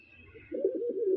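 A single low, soft pigeon coo rises near the end, close and alone after a brief quiet start.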